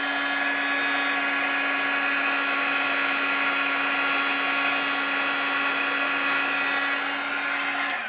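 A heat tool blows steadily over embossing powder on an inked card, a loud, constant whirring hiss with a fixed motor whine that runs unbroken for about eight seconds, close up and with no talking.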